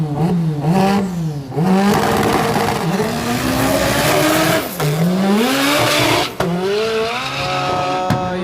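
A turbocharged drag racing car launches at a Killarney drag day. The engine screams loudly and up close, revving through repeated rising sweeps with tire squeal, each climb cut off by a shift before it surges again.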